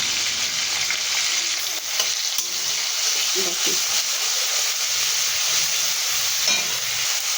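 Food fries in a pan with a continuous close hissing sizzle and a few brief stirring scrapes, with no talking.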